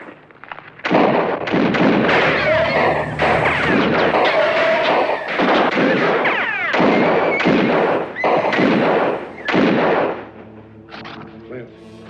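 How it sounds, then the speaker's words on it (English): A volley of rifle fire in a 1965 western, dense overlapping loud shots and booms running almost continuously for several seconds before tapering off. "Fire a volley!"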